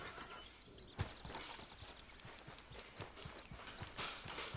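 Horse hooves clip-clop in a steady walking rhythm in Red Dead Redemption 2, moderately close and fairly faint, over a busy background of game ambience.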